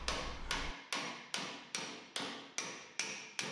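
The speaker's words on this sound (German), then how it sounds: "Nun trifft der Hammerschlag die Blechoberfläche und der Fäustling springt von der Oberfläche ab und schlägt von unten gegen das Blech." A hammer strikes sheet metal in a steady series of about eight sharp, ringing metallic blows roughly every half second, with a dolly held underneath rebounding against the panel during dent removal; close and clear, with no talking.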